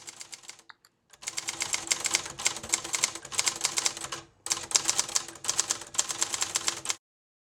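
Keys clack steadily on a Hermes 3000 manual typewriter in fast, dense bursts, with short pauses between runs, close and crisp.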